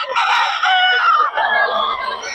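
A gamefowl rooster at a market crows in one long, loud, close call that breaks briefly partway through and then carries on to the end, with no clear speech over it.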